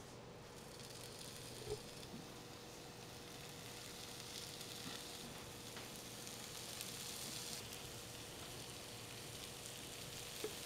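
Bacon sizzling on the top plate of a raclette grill, a steady, close crackle and hiss that holds throughout with a faint hum beneath, no talking.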